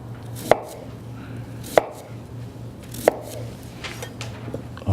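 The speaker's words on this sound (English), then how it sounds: "I'm gonna take it and slice it into slices, thin slices" Thin slices of sweet potato being cut on a board, three sharp, evenly spaced knife chops standing out close against a quiet, low steady hum, with no voice.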